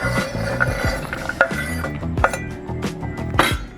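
Vegetables being dropped into a pot of albondigas soup, with a busy run of clinks, knocks and scraping from pots and utensils, close and fairly loud throughout with sharp metallic accents.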